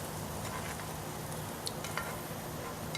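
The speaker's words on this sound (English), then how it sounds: "It's just enough to get the pan warm and give you a nice little sizzle action." Ground pork sizzling in a warm pan over medium heat while cooking off grid for a homemade meat sauce, a steady dense hiss with a few small pops, close and alone.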